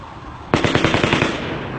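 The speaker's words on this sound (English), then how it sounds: "Here's some audio of shots that sounded very, very close to her cab." A rapid burst of gunshots cracks out very close, a quick series of sharp reports in fast succession, loud and echoing.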